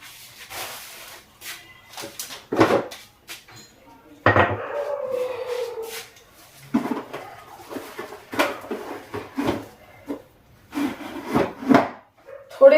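Whole coriander seeds are coarsely crushed by hand inside a cloth, giving irregular rubbing and grinding scrapes with short pauses, close and fairly quiet.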